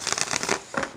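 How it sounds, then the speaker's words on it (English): Tarot cards being shuffled by hand, a run of quick papery riffles and flutters over about a second, fairly close and with no talk over them. "One more shuffle."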